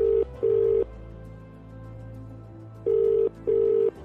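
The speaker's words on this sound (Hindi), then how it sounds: "अर्जुन का कॉल तो लगा, लेकिन उसने कॉल रिसीव नहीं किया" Ringback tone of an outgoing phone call, two pairs of steady electronic ring bursts separated by a long gap, clear and close with no one answering.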